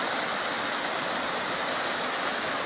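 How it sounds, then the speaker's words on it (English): A stream pours out of a lake near Llyn Caer-Euni, its steady, dense rushing flow close and loud throughout with no voices over it. "This will be that stream we crossed that's coming out of the lake."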